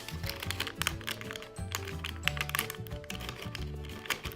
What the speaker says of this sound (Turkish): Fermuar gibi açalım bakalım.